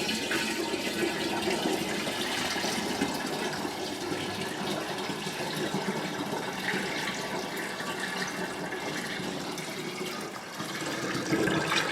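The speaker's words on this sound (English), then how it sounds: "So that's just honey and water you're pouring in." Honey and water mixture for mead being poured, a steady, continuous rush of liquid that stays loud and close throughout with no talking.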